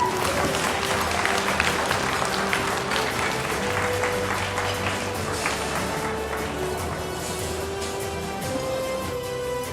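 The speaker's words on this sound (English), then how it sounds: "please round of applause Tim Chen for his contributions to the association" Audience applause at a Chinese-American accountants' association 32nd anniversary banquet, honoring Tim Chen for his contributions: steady, dense clapping from a banquet crowd lasting the whole stretch, with faint tonal music or voices underneath.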